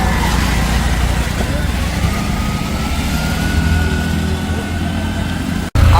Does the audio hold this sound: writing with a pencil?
no